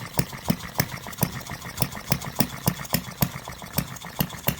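A 1/8 scale model Reid engine running on propane fed through a rubber hose, thumping out steady evenly spaced firing beats with a rough mechanical clatter, close and alone.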